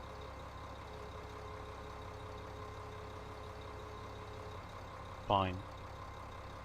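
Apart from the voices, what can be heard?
tractor engine in Farming Simulator 15 video game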